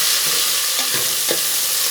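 Chopped tomatoes stirred into fried onions give a dense, loud hiss of sizzling, with a couple of low scraping stirs under it, close and continuous, with no voices.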